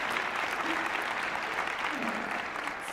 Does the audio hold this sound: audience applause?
yes